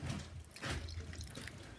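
Warm, not boiling, water is poured a little at a time into henna powder for natural-hair mixing, a soft close trickle and splash heard alone over about two seconds.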